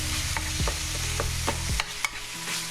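Ground beef browning in a pan for lasagna: a steady loud sizzle runs throughout while a utensil scrapes and stirs in repeated strokes, close up, with no talking.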